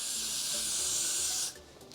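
Hairspray hisses in one continuous, close aerosol burst onto a drag wig being styled into an updo, lasting about a second and a half before cutting off abruptly.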